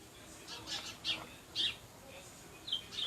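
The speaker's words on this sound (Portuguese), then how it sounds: "Aqui, os pássaros cantando, você está ouvindo, né?" Birds sing outdoors with a few faint, scattered chirps and short calls against a quiet background, each call brief and distant.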